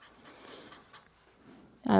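Pen nib drawing a circle on paper, faint soft scratching strokes in a quiet room, cut off at the end by a sudden loud voice.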